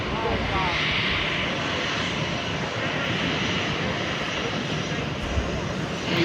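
Air Canada Rouge Airbus A319 jet engines at San Juan airport, a loud, steady broadband roar that holds throughout with voices talking faintly underneath.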